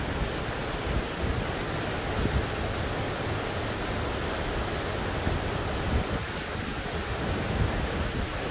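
A mountain stream rushes through the Gorges de Cavatanne near Ste-Croix, a loud, dense, continuous roar of flowing water filling the scene without pause or voices.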